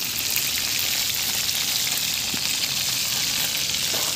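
Fish frying in a pan, a loud, constant crackling sizzle with no pauses and no talking over it.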